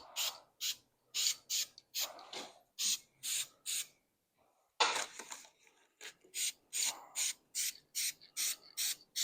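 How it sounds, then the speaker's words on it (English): Primer sprays onto an engine block as it gets a makeover, in a regular series of short, sharp aerosol hisses with brief gaps between, close up, with a longer pause midway and no talking. "Get a good coat of primer on it."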